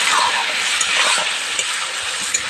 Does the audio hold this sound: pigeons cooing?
no